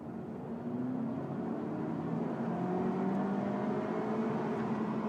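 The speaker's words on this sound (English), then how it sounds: "30 now, I'm going to floor the car now." A Honda Civic GT VTEC turbo accelerates hard at full throttle from about 30 km/h, a steady engine drone with rising harmonic tones building for five seconds, heard from inside the car with no talking.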